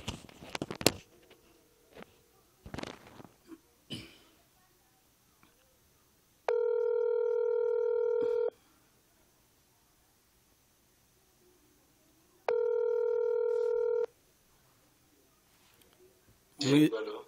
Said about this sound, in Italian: Reka rero duhamagara umutumirwa wacu niba yamaze kugera ku murongo wa telefone.